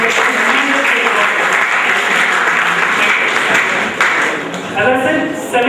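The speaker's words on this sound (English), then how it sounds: "I want you to give yourselves a huge round of applause" Quiz audience giving themselves a long round of applause at a memorial quiz event, dense steady clapping throughout, loud and close, with some voices mixed in.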